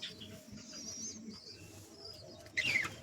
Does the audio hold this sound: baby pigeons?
yes